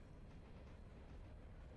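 Trains running in the railroad simulation game Railroader, a faint, steady low rumble of rolling rail cars with no distinct clacks or voices.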